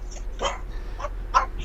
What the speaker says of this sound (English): That's my little tough dog.